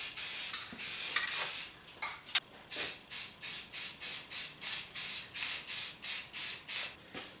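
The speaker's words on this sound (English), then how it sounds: "Always want to change the direction of your spray with these rattle cans." Hissing bursts of spray paint from an aerosol rattle can on a 1961 Cushman Truckster, a few long sprays and then a quick, even series of short rhythmic puffs.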